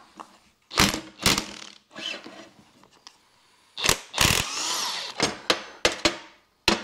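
A half-inch impact wrench with a 15/16 socket, working on a Mercruiser 120 hp stern drive, fires in several sharp loud rattling bursts with quieter gaps and mechanical clatter between them.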